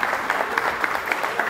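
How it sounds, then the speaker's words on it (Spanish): Applause from an audience at a baseball league press conference, steady dense clapping of moderate loudness with no voices over it. "a quien pido un aplauso por haberse sumado a nosotros de manera temprana"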